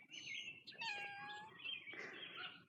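A cat meows in a few short, faint, close, wavering calls.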